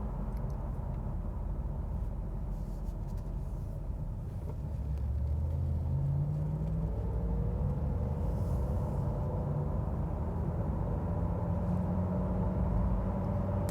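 A steady low rumble of road and engine noise fills the cabin of a 2019 Honda HR-V Sport 2WD as it drives along, with no talking.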